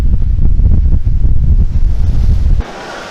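Strong wind buffets the microphone on a cruise ship deck crossing choppy seas at midday, a loud continuous low roar that cuts off abruptly near the end, leaving a quieter hiss.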